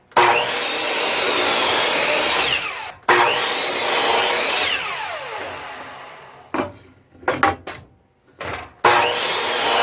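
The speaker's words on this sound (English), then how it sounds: "the blade's going to come down and cut the 2x4 like this" A saw blade cuts through a 2x4 to make pieces for beehive frames, giving loud, close rasping strokes in two long cuts, then short bursts of cutting, and one more stroke starting at the end.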